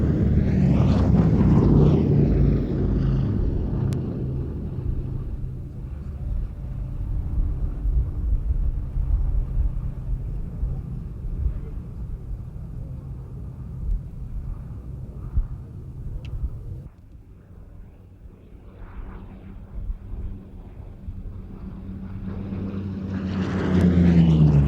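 The Boeing B-17 bomber Sally B flies past at an air fete, its piston engines droning loudly as it approaches, fading into a distant hum mid-pass, then swelling again near the end.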